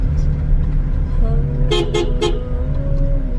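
A vehicle horn gives three short toots over a steady road rumble of passing traffic, loud and close, with a low engine drone underneath.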